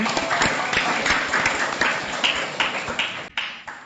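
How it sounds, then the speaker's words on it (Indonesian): A small group of classmates claps for a correct answer during a children's storytelling session, a quick burst of dense, uneven hand claps that thins out and stops near the end. "Berilah tepuk tangan"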